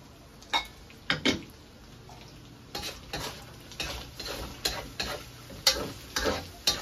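Onions and aromatics sauté in a pan for simple ground-meat giniling, a soft sizzle broken by a series of sharp clicks and scrapes of a utensil against the pan, irregular and close.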